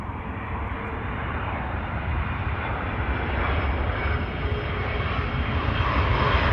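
An airliner arriving at Amsterdam Schiphol Airport on approach to runway 22, its engines a steady, broad roar that grows slowly louder through the clip, with no voices.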